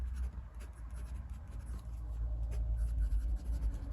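A steel medium-nib Artisan Classic fountain pen writes on Clairefontaine 90 gram paper, giving a soft continuous scratching with faint stroke ticks over low room rumble, no talking.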